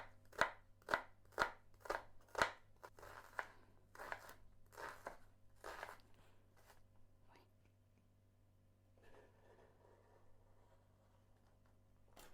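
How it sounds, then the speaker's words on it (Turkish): A knife chops onion on a board, with about five crisp, evenly spaced cuts, then several softer, slower ones that fade to quiet handling noise. The sounds are close and faint. "Öncelikle soğan keselim."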